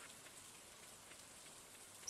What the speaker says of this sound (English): So it's a rainy day here.